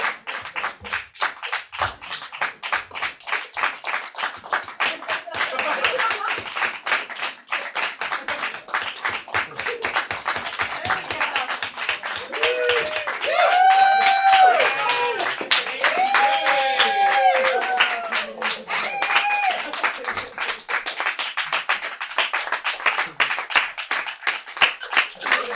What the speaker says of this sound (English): we could all just, on the count of 3, we could start clapping